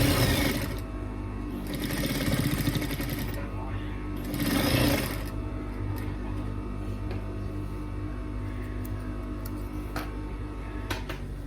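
A sewing machine stitches fabric in two quick, loud runs of rapid mechanical whirring, then the room stays fairly quiet with small clicks and handling sounds.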